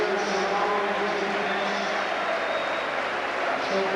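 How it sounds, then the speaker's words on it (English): Stadium crowd cheering and applauding players at the 1990 Chelsea versus Middlesbrough cup final, a steady broad roar of distant applause and voices that holds throughout without a break. "And they're getting a great reception from the crowd."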